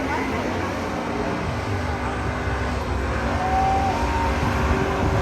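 Buick and Oldsmobile drag racing cars, both with 455 cubic inch engines, roar loudly and continuously during a midnight drag race, with crowd noise and voices mixed into the din.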